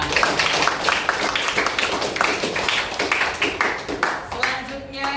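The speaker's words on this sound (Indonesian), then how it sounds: "Tepuk tangan untuk kita semua." A class clapping hands together, a dense burst of many overlapping claps at moderate loudness for several seconds, with talk mixed in.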